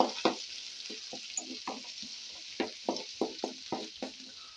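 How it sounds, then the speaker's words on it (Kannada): Chopped onion and a couple of green chillies fry in hot oil, a close, steady sizzle punctuated by about a dozen rhythmic spatula strokes scraping the pan, with no voices. "ಇವಾಗ ಸ್ವಲ್ಪ ಫ್ರೈ ಮಾಡ್ಕೊಳ್ಳೋಣ"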